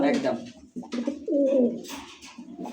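Pigeons coo in short throaty phrases close by, a few soft rolling calls with brief gaps between them, heard alone without talk.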